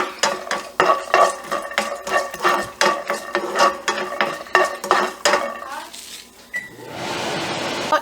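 Rapid clattering of a utensil scraping and stirring raw peanuts dry-roasting in a metal pan, rhythmic and close, followed by a brief hissing sizzle near the end.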